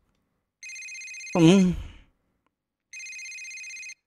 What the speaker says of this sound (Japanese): 瀬名君の言葉を着信音が遮った。